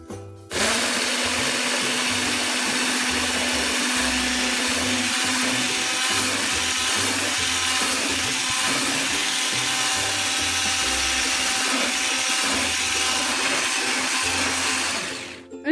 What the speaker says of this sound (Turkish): İkisini 5 dakika kadar yumurtaların rengi değişene kadar çırpmaya başlıyorum.